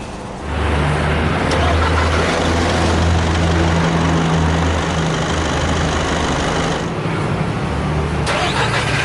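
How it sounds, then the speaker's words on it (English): A 2023 Foton Thunder 2.0 diesel pickup engine cranks and catches within a second, then settles into a loud, steady rumbling idle that runs on close by. "hit this engine start stop button to fire up the engine"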